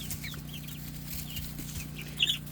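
Soft, scattered clucking from small yellow hens a short distance away on an off-grid homestead, with one brief louder squawk near the end over a steady low hum.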